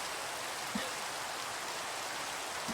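Steady rain falls in the Minecraft video game, a dense, even hiss of drops with no other sounds, continuing without pause at moderate loudness.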